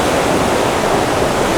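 A waterfall roaring as a steady, loud, broadband rush of falling water, close and unbroken with no voices.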